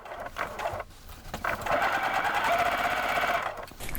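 A sewing machine stitches cording onto a decorator pillow, running steadily with a fast mechanical whir, brief pauses near the start, and a continuous close stretch of stitching after that.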